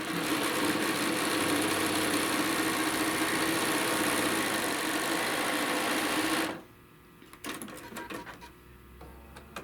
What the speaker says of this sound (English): we have one side sewn